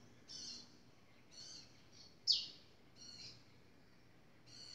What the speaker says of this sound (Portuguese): Não sei que passarinho que é